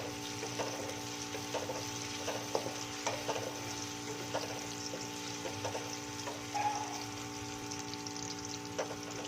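Onions softening in a hot pan for potato samosa filling: a soft, constant sizzle over a steady kitchen hum, with occasional light ticks from stirring, low in level.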